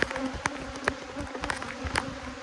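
Bees buzz steadily around a backyard hive during a fall honey flow with robbing going on, a close, continuous insect drone with individual bees zipping past the microphone and no talk.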